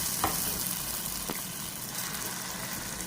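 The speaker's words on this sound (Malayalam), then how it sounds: "നല്ല ഗോൾഡൻ പരുവായ സമയത്ത് നമുക്ക് നമ്മുടെ 2 തക്കാളി, മീഡിയം തക്കാളി ചോപ്പ് ചെയ്തത് ഒഴിച്ചു കൊടുക്കാം" Chopped tomatoes frying in a hot pan with golden onions for an old-style Kerala fish curry, a continuous even sizzle with two brief utensil taps over a low background hum.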